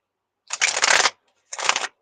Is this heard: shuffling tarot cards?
yes